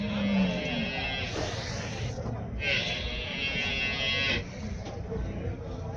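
Water buffaloes lowing at a cattle market in Erode, one low moo up close at the start amid steady crowd murmur and voices, with other animal calls and market bustle continuing underneath.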